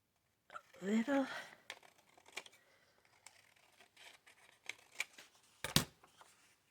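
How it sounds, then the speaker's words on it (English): Scissors trimming a small strip off paper for a Christmas journal, a short burst of snipping and rustling near the start, followed by scattered light paper handling and taps, close and quiet. "we just have a little bit to trim off"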